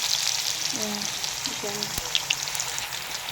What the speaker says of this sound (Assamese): এয়া তেলখিনি গৰম হোৱাৰ পিছত মই ইয়াতে আলুখিনি অকণ জাষ্ট ফ্ৰাই কৰি দিম